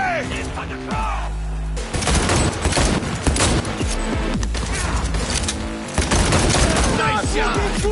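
Dense bursts of rapid gunfire from the video game Cyberpunk, loud and near, with shots layered over each other almost without pause and a heavier boom partway through, over a steady game soundtrack.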